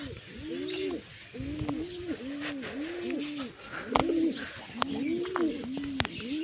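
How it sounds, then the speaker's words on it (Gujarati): Nesting pigeons resting together in their loft give soft, rolling coos in a steady repeating rhythm, several birds overlapping at a moderate distance, with occasional light chirps and rustles. "અહીંયા આપણા બધા કબૂતર બેઠા છે"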